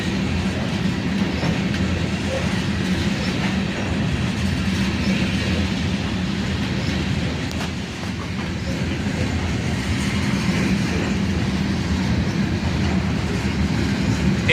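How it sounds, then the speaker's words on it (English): A long hopper train hauled by three AC44CW locomotives in YN2 paint rolls steadily past, a continuous loud rumble of wagons with faint rhythmic clickety-clack throughout and no speech. "hopper train with a trio of AC44 CWs, all in the YN2 paint scheme"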